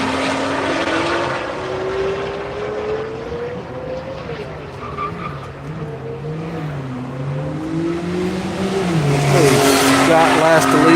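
Race cars head out on track for an afternoon run group session at Hedge Hollow during One Lap of America, a steady engine drone with shifting revs swelling louder toward the end, under faint voices.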